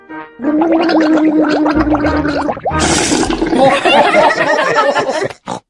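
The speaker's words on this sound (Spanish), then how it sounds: "Pero no te lo tragues, enjuágate y escúpelo." Child cartoon character gargling and rinsing with pink mouthwash at the dentist, a bubbly gurgle followed by a splashing spit, loud and close, with brief pauses between.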